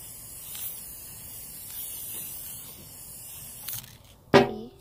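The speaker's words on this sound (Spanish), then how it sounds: "Y yo voy a rociar un toquetín nada más para que se le pegue un poquito de escarcha." Glitter spray can sprayed lightly onto silicone placemats, a faint continuous hiss with a couple of brief bursts, ending in one louder sharp spritz.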